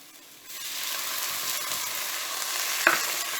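Spice powders, salt and chopped tomato fry in oil for a brinjal and prawn curry, a close, even sizzle that swells after a quieter start, with a single sharp utensil tap near the end.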